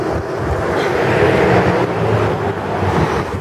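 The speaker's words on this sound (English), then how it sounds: "it's awfully windy" Steady, loud wind buffeting the microphone with a constant broadband roar and low rumbling gusts throughout.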